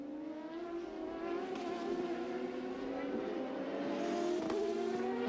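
1996 CART Indy-style race cars at Laguna Seca roar with a steady rising engine drone, several machines blending as they accelerate up the hill, with a commentator talking over the noise.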